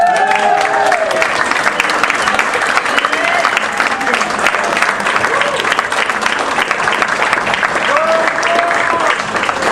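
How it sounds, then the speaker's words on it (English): Loud sustained applause and cheering from a pub audience for quiz teams at Conor O'Neill's Pub in Ann Arbor, dense clapping throughout with voices calling out over it. "Can we have a big round of applause for all of our teams?"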